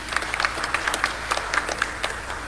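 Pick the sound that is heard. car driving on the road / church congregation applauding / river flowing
church congregation applauding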